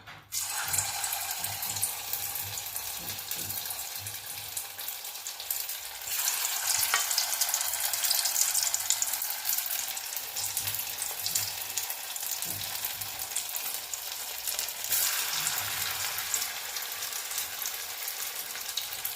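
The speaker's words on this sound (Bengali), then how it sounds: "মেখে এখন কোপ্তার আকারে এগুলো ভেজে তুলব।" Paneer kofta balls fry in hot oil with a loud, dense, continuous sizzle that swells in intensity at times. Faint stirring sounds occur beneath, and no one speaks.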